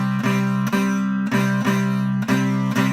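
C bar chord strummed on electric guitar, with repeated sustained strums roughly every half second, each attack sharp then ringing, played alone without talk.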